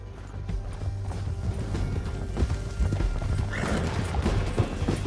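Rapid hoofbeats of a horse galloping in Red Dead Redemption 2, a quick rhythmic clip-clop over a low rumbling background, with a brief whinny.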